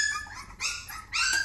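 A newborn puppy whimpering up close, giving three thin high-pitched squeaky cries in quick succession with no voices.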